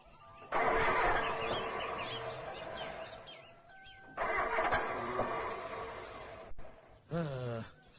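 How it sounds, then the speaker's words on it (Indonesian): A faulty car engine cranks and sputters without catching, several loud grinding attempts with pauses between, close by, with birds chirping in the background. "Mendadak mesinnya jadi ngadat begini."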